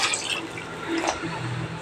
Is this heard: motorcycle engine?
no